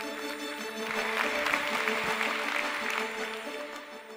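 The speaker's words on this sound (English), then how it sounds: "Please give a warm applause to Bernd Stauffer." Conference audience at a keynote in Amsterdam applauding a speaker as he comes on, a steady wash of clapping that holds for several seconds at moderate loudness with no speech over it.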